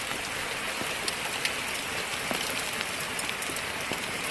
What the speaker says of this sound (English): it is fucking hailing